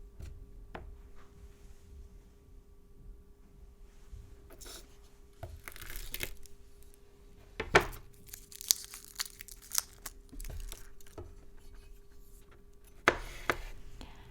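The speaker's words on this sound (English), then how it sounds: "To get the skin off really fast, you just smash it with the back or like the side of a knife." Smashed garlic cloves are peeled by hand in a quiet kitchen, giving soft scattered crinkles and papery snaps, with a few sharper close crackles near the end.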